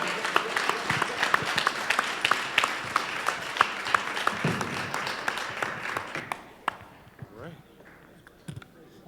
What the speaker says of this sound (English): Big old hand clap, everybody.